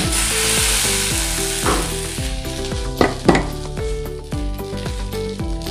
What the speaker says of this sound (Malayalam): ചട്ടി നല്ലപോലെ ചൂടായതിൻ്റെ അതിനുശേഷം 1 തവി മാവ് ഒഴിച്ചു കൊടുക്കാം